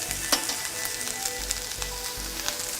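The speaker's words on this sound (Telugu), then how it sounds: "ఇప్పుడు బాగా ఫ్రై చేసుకుందామండి." Onions frying in a pan over a slow flame until they brown, with a steady close sizzle and a few sharp crackles and stirring taps throughout.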